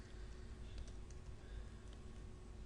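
Faint keyboard typing on a computer, a quiet run of light key clicks over a low steady hum, with no talking.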